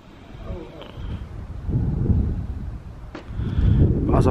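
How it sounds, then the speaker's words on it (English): Steady low rumble of wind buffeting the microphone by the sea at St Andrews Castle in February, swelling and gusting throughout. "it's very windy"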